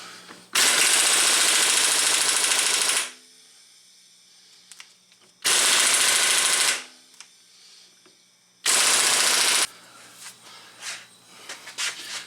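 A Nitrocat 1200 air impact wrench hammers at an axle bolt during an Audi A8 D4 front wheel bearing job, loud rattling bursts in three separate runs of roughly two seconds or less, with quiet gaps between them.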